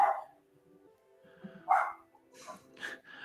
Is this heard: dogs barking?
yes